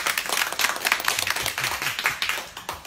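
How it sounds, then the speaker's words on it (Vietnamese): A small group claps hands together in irregular, close-up applause at a gathering of orchid traders, sharp overlapping claps that thin out toward the end. "Rồi, vỗ tay."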